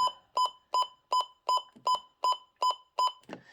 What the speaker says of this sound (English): I'll show you how to edit these button beeps here in a minute, so you can turn the beeping off